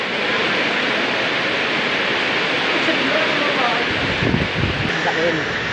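Floodwater rushing during Typhoon Kristine, a loud, steady broadband roar of water mixed with wind, with faint voices and a few knocks near the end.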